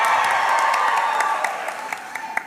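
A live audience at a Dallas podcast taping applauds and cheers in a dense, close wash of clapping that gradually thins and fades toward the end.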